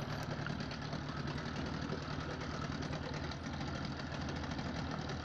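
A Yamaha Enduro 30HP two-stroke outboard engine runs steadily at a quiet level, a continuous buzzing drone with a fast knocking pulse and no voices.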